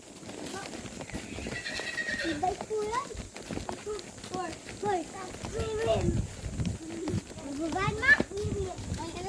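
A horse whinnies and snorts amid hoof clip-clops in the countryside, while a child and an adult talk excitedly nearby throughout.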